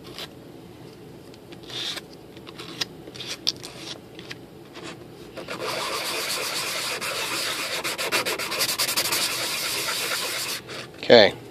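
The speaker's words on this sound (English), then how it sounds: "Okay, sand it." Hand sanding of a scale model Airbus A380 inboard main landing gear part, a steady close rasping rub that builds and continues for several seconds after a few scattered scrapes and taps, with a sharp knock near the end.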